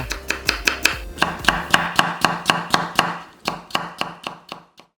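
A knife julienning 0.4 cm potato slices on a cutting board makes a quick, even run of close, crisp chops, about three per second, with no talking.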